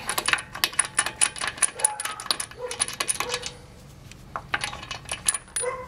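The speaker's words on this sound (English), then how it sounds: "We don't even need to use the ratchet or a breaker bar to finish taking off the lug nuts." Metal lug nuts being loosened and spun off a car wheel by hand with a socket, giving a run of sharp, close metallic clicks and rattles in irregular bursts, with no talking.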